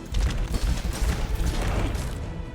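Shielded double-barrel gun blasts in The Bazaar, with a dense, continuous burst of loud booming fire and rumble throughout, no talk.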